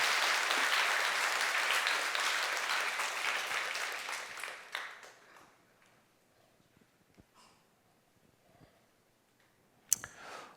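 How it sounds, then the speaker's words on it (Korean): Warm applause from a church congregation, loud and dense at first, then thinning and fading out over several seconds into scattered claps and quiet, with one sharp sound near the end. "다시 한번 뜨거운 박수로"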